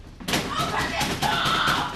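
A door is banged hard, a sudden loud thump followed by continued pounding and rattling, close and forceful, with a voice shouting over it.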